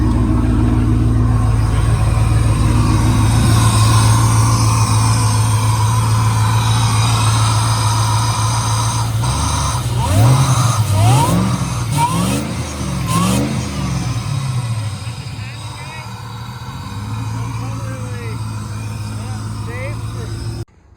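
A car engine newly fitted with a Holley Terminator X runs steadily and loud, then revs up in several rising bursts before settling back, with someone talking over it.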